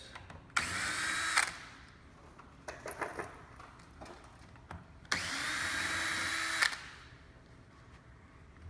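A power drill backs out screws from a lower panel and filter bracket while replacing an AP drain pan, with two distinct whirring bursts of about a second each, separated by clicks and handling sounds, close and clear.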